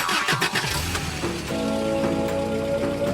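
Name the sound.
car engine starting, animated cartoon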